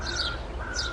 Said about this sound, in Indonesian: adalah suara burung.